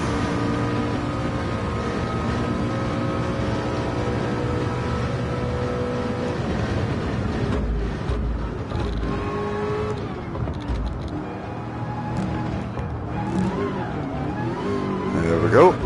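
A race car in the PSVR2 game 24 Hours at Le Mans roars down toward the Mulsanne curve, its engine droning loud and steady, shifting pitch as it accelerates, with someone talking over it.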